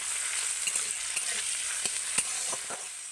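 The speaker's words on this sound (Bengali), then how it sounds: "এগুলো একটু হালকা করে তেলের সঙ্গে ভেজে নেব।" Chopped tomato, green chilli and ginger fry in hot oil, giving a steady close sizzle, with scattered light taps and scrapes of stirring through it and no voices.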